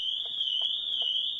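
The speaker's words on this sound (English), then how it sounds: "So if we jump in, the alarm's going off" A car alarm sounds inside a Ford Transit Custom van as a continuous high-pitched electronic tone, close and steady, with faint regular pulses beneath it and no talking.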